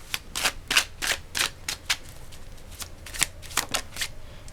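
Tarot cards being shuffled, a run of crisp riffling bursts and snaps in uneven rhythm, close and fairly loud with no voice over them.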